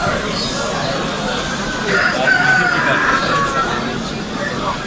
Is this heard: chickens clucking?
yes